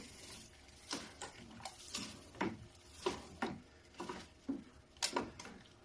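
Grain being stirred by hand into water for a beer mash in a Grainfather brewing setup, with a run of soft sloshing, scraping strokes at an uneven rhythm, close and fairly quiet.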